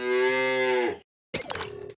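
A loud, drawn-out cow moo cuts in alone, then after a brief silence a burst of rattling, clattering noise follows, as a comic interruption in a custom You Don't Know Jack trivia game.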